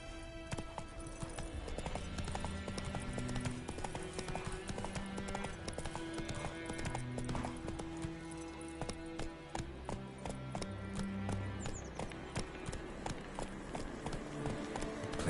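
Horse hooves gallop in a steady, rapid clip-clop rhythm throughout, loud and close, set against continuous game music in The Witcher 3.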